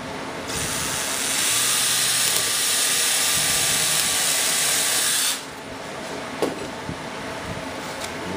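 A loud, harsh whirring hiss of a power tool cutting carbon fiber on an aircraft wing runs steadily for about five seconds, then cuts out to a quieter background hum.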